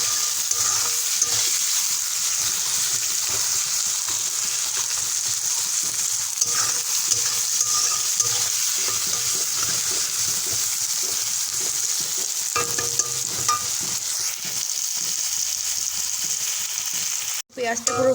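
Onions sizzle steadily in a pan with a little salt for chicken kosha, a dense continuous frying hiss with occasional soft stirring scrapes, close and fairly loud throughout.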